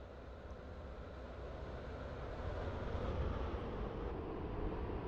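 A five-coach class 730 electric train runs through a station, producing a broad, steady rumbling roar that swells gradually toward the middle and stays sustained, with no voices over it.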